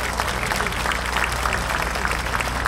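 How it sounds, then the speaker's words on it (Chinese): An audience at a 318 movement anniversary evening rally applauds the volunteer lawyers, dense sustained clapping from a large crowd with a faint murmur underneath. "也请各位给予这所有的义务律师团一个最大的掌声"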